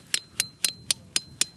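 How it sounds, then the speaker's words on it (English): A metal sap tap is hammered into a maple tree in Vermont, six sharp, evenly spaced ringing strikes about a quarter second apart, close and clear with no talking. "So now I have to hammer in the tap."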